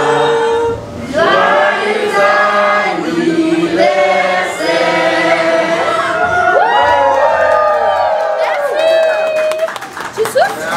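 Children and adults at a birthday party cheer, shout and whoop loudly together, with scattered clapping and excited high-pitched voices filling the room.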